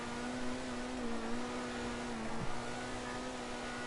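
Overflod Tyrant supercar in Grand Theft Auto 5 holding a steady engine drone with a constant low tonal hum, a slight rev bump near the middle, loud and continuous with no talk.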